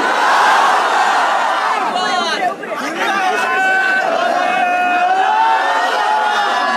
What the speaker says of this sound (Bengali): একটা তাকবীর দেন, নারে তাকবীর